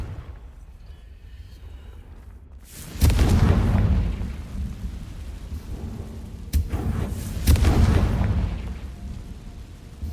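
Fire spell blasts cast in the wizarding action game Hogwarts Legacy: two heavy booming bursts a few seconds apart, each swelling loud and rumbling before fading, over a low steady background.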